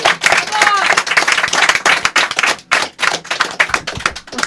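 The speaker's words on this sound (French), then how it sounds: "Ouais, on les applaudit." Live audience in Paris clapping for the show's guests, a loud, dense burst of hand claps with cheering voices mixed in, rising and falling over several seconds.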